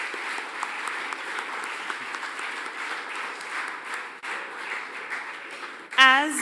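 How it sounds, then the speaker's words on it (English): Sustained audience applause at a university student achievement award ceremony, a broad steady wash of clapping lasting several seconds before a voice cuts in at the end. "Let's show a round of applause and appreciation for these incredible contributors."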